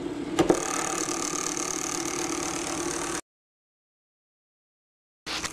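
A StarShip motor with anti-cogging spins up, giving a steady mechanical whir with a faint ticking rhythm that cuts out abruptly to silence, then briefly resumes at the end.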